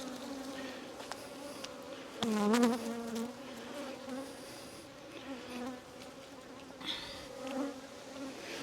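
Dense, steady buzzing of about a thousand honey bees swarming around an open hive with heavy honey boxes, loud and close, swelling briefly midway.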